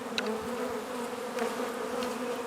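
Honey bees buzzing steadily around an opened hive during a beekeeping inspection, a close, continuous drone with a few louder passes of individual bees.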